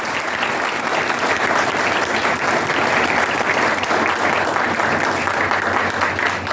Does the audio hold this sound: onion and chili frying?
no